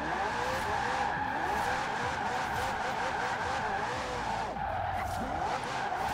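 A Forza Horizon 4 car with drift suspension slides sideways, its tires squealing in long continuous wails over a steady engine drone, loud and close with no talk.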